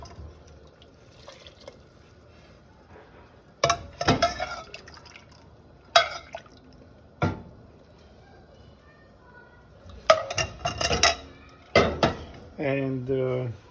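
Potato cooking water is poured into a pot of vegetable minestrone in short splashy bursts, with clinks of pots and utensils between them and a cook talking throughout.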